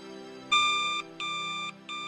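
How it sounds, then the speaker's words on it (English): A telephone rings in three repeated electronic bursts, each about half a second long with short gaps between them, loud and close over a low steady background hum, in a stop-motion LEGO Batman setting. "The phone has been ringing for the whole night."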